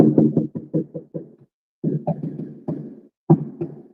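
Knocking on a steel door: quick runs of loud, close, hollow metallic raps in bursts, a rapid series of about eight, then a pause, then several more clusters of knocks.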